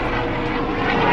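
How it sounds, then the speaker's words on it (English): A loud, steady engine roar from a low aircraft passing overhead outdoors, filling the whole short stretch without any voices. "And wait for this plane to go by."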